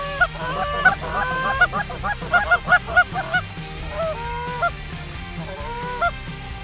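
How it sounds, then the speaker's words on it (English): Geese honk repeatedly during a waterfowl hunt, loud overlapping calls coming in bursts and clusters, some near and some farther off, over a low background rumble. "in between those flocks of ducks and geese that are coming"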